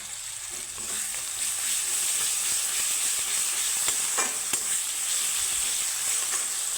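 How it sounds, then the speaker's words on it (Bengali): Ginger-garlic paste and slit green chillies sizzle steadily in hot oil over browned onions, a continuous close frying hiss with occasional stirring clicks and no talk. "তো আদা রসুনের গন্ধ যাওয়া অব্দি আমি একটু ভেজে নিচ্ছি"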